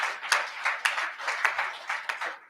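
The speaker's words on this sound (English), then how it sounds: "You should give yourselves applause as well." A modest audience at the closing ceremony of a UN and civil society summit claps for itself, producing a fairly close, uneven patter of hand claps that swells in slight pulses.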